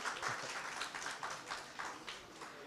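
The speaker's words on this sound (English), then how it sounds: "one more round of applause to Varun for leading that round" Applause from an audience at a convention venue, a steady wash of many hands clapping at moderate distance that lasts a few seconds.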